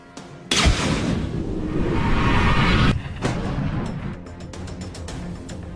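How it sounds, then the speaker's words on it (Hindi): Missile interception in a video game: a sudden loud blast opens into a roaring explosion lasting a couple of seconds, then fading rumble with scattered crackles and debris-like pops. "मैंने ईरान का मिसाइल ऊपर ही खत्म कर दिया।"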